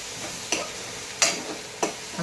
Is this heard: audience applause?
no